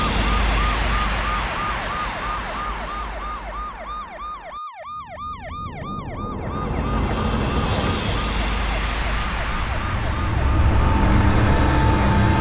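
An ambulance siren wails in repeated rising and falling sweeps, growing louder as it passes close by and then continuing among road and traffic noise.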